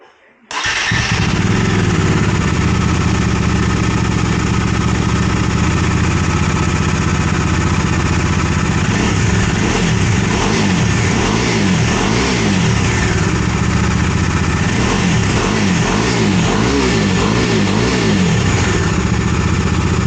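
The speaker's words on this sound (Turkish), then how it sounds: "Filtre değişimi sonrası ilk marş." Bajaj Dominar motorcycle engine firing up for its first start after a filter change, then running loud and close with repeated revs rising and falling; people talk over the engine.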